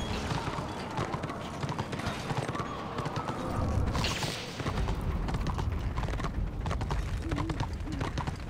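Horse hooves clip-clop in the Return of Reckoning fantasy online game, a quick steady trot over continuous game ambience with a brief low boom midway.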